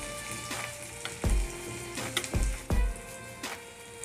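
Ginger garlic paste dropped into hot oil for a Bangda (mackerel) curry, sizzling steadily with a few sharp low thumps and spatters, close and moderately loud with no talking.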